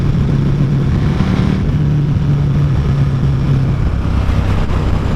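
A motorcycle engine runs steadily at close range with a constant low hum, the rider pressed against a warm tank, no talk over it.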